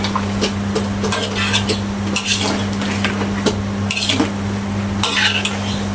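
Bitter gourd stir-fried with shrimp in coconut milk in a pan, with a utensil repeatedly scraping and clattering against the metal over a steady hum, in near, continuous irregular strokes with no talk.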